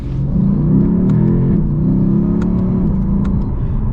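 A 2020 Lexus RC F Track Edition accelerating in manual mode, its exhaust a loud, deep, rising engine drone heard from inside the cabin, steady and continuous with a few faint clicks.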